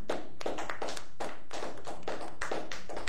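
A church congregation claps together in a steady, even rhythm, about three claps a second, loud and close, with no voices over it.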